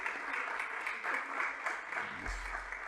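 An auditorium audience applauds after a conference talk, a dense sustained burst of many hands clapping at moderate distance, steady throughout with a low thump near the end.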